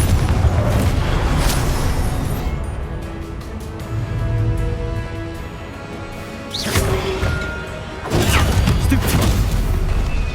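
Confringo blasting-spell explosions in Hogwarts Legacy, with loud booming bursts around a quieter mechanical hum: a heavy blast early, another mid-way and a final rumbling burst that carries to the end.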